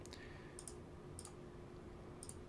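Computer mouse left-clicks in a quiet room: three or four faint, sharp, isolated clicks spaced roughly half a second to a second apart over a low steady background hum.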